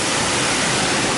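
A car wash air dryer blows hard at the end of the wash, a loud, constant broadband roar heard close from inside the car, with no voices over it.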